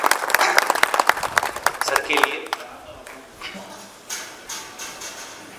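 Clapping from an audience at a school function bursts loudly at first, then thins out and fades into a quieter room tone with a few scattered claps.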